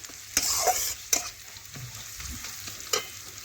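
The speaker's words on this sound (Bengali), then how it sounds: "তাতে পেঁয়াজটা কিন্তু তাড়াতাড়ি লাল লাল করে ভাজা হয়ে যায়" Onions frying in a pan with chili powder for a chicken curry cooked over a clay stove, giving a steady close sizzle broken by several sharp scraping stirs.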